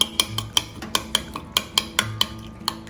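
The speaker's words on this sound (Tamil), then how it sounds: "இதில் கொஞ்சம் பச்சை மிளகாய், கொஞ்சம் வெங்காயம், கொஞ்சமாக உப்பு போட்டு நல்லா அடிச்சிக்கலாம்." Eggs with green chilli, onion and salt whisked briskly in a bowl for an omelette curry, a steady run of sharp utensil clicks against the bowl in an even rhythm, close and clear with no talking.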